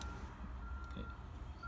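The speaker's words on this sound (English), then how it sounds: "If you can hear the beeping sound outside," Reversing beeps from a construction vehicle outside, a faint steady tone heard through walls with low engine rumble underneath, indoors at a distance.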